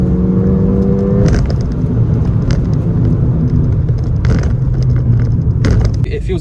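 A Ford Fiesta ST engine pulls hard under acceleration on the road, a loud steady rumble with rising tones and a gear change near the start, heard from inside the car with brief voice sounds mixed in.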